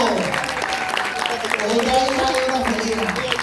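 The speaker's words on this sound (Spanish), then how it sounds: "Un aplauso para Fernanda." Applause from the audience at a community Christmas story contest, steady clapping from a crowd mixed with voices talking over it, moderately loud throughout.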